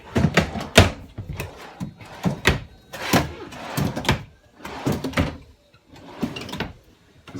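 Drawers in a 2016 Chaparral 336TSIK RV sliding open and shut repeatedly, a series of close, loud rumbling slides and thuds with short pauses between them.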